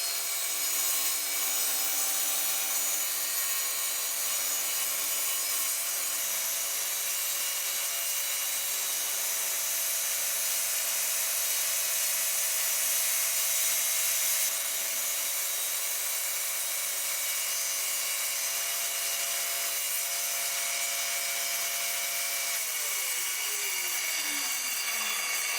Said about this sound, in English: then I trim it down on the table saw